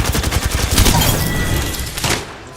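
Grenade spam and gunfire in the battle royale shooter Apex Legends during scrims: rapid, dense bursts of shots and booming blasts overlapping in a loud close barrage that thins slightly toward the end, with no talk.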